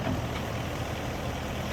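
A skid steer's engine runs hard and steadily as it pushes against a tree, giving a loud, continuous low diesel drone with no pauses.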